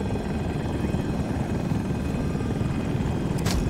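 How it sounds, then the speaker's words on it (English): A KA-520 Super Hokum attack helicopter in Battlefield 2042 roars with a loud, constant rotor and engine drone throughout, with a brief higher whoosh near the end. "Get to the chopper."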